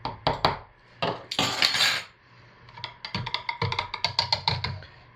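Close, quick clinks and scrapes of a utensil stirring blood orange cold process soap batter in a container, in short bursts with brief pauses.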